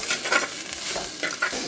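Shallots and drumsticks sautéing in a clay pot for Kerala-style sambar: short bursts of scraping and stirring over a bright hiss of oil, close and busy, with no talk.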